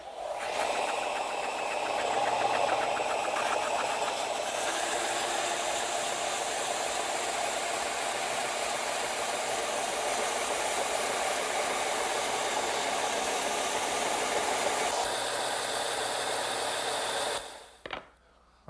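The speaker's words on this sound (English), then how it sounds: "I'm going to use my vertical belt sander." A vertical belt sander tapers the edges of a wooden piece in a workshop. Its steady, loud whine holds for most of the time with slight shifts as the wood is pressed in, then cuts off sharply near the end.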